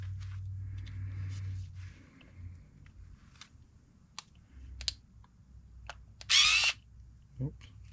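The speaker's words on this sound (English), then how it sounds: "I prefer using a screwdriver, electric screwdriver for this." Close, fairly quiet taps and clicks from handling an electric screwdriver while bolts come out of an ARRMA Kraton V5 6S RC car differential, with a short whir near the end.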